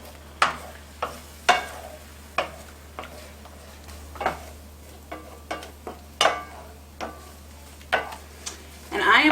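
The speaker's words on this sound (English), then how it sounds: "I am one who constantly stirs my scrambled eggs, and that to keep them from burning" A wooden spoon works scrambled eggs around a pan in a steady series of sharp scraping knocks, about one a second, close up over a faint sizzle and a low hum.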